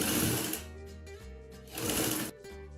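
A sewing machine stitches piping onto a one-shoulder baby girl's frock. Two close, steady whirring runs are heard, with a brief slowdown between them and a drop in speed near the end.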